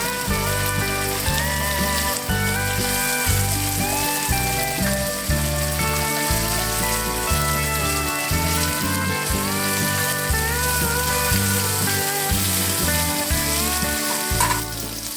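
Smoked sausages sizzle steadily in a frying pan, a constant close hiss running the whole time beneath loud, rhythmic background music.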